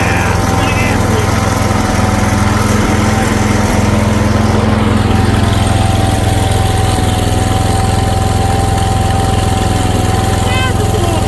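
A garden tractor engine idles steadily up close with a constant low rumble and drone, a fuel leak present, while people talk faintly over it.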